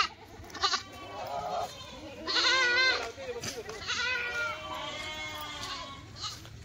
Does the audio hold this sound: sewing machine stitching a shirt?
no